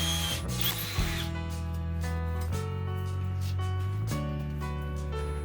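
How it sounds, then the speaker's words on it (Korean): A power drill bores holes high up in the wall of a semi-basement bathroom, its motor whining steadily at close range with brief pauses and changes in pitch as it cuts into the wall. "한 손으로 높은 데 있는 곳을 뚫는 것은 조금 힘이 듭니다"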